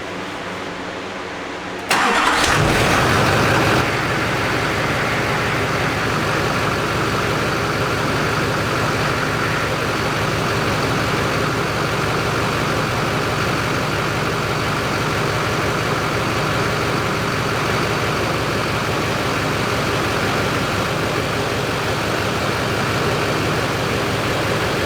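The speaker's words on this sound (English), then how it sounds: "It's time to start the truck." A Duramax diesel truck engine cranks and catches after about two seconds of quiet, then settles into a steady, loud, close idle that runs on without a break, with no talking over it.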